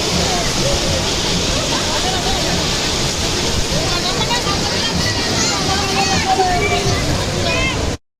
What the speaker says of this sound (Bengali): আর এত জোয়ারে রে যে পুরো এই অবধি দেখো পা ভিজে যাচ্ছে, জলটা আসতে থাকে